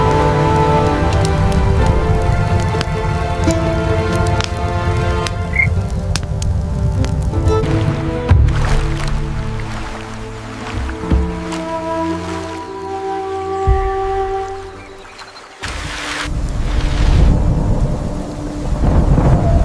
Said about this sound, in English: The torrential rain poured all night, and the wind howled through the cracks in the rocks